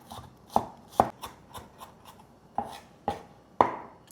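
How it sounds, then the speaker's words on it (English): Garlic is minced with a knife on a cutting board for Chinese home cooking: about eight crisp, close knocks at an uneven pace, several of them sharp and loud, with no voices. "Mince some garlic."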